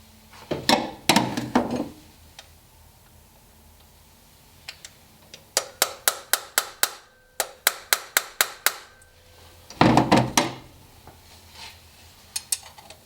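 A fitting is tapped into place with a series of sharp, close taps, some in quick rhythmic runs, with gaps of near silence between clusters.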